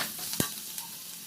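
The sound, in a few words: chopped onion frying in pan with garlic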